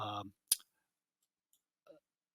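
A single sharp computer mouse click while browsing a digital newspaper library, heard alone right after a brief burst of speech, followed by faint ticks.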